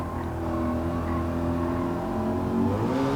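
Race car engine in Gran Turismo 7 holding a steady, loud droning whine with layered harmonics. It stays fairly even and swells slightly near the end, with no voices over it.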